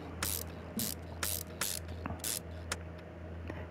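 A ratchet tightens bolts on a Fastback Mustang muscle car in Car Mechanic Simulator 2021, sounding as a series of about six sharp, close ratcheting bursts in an uneven rhythm, then fainter clicks.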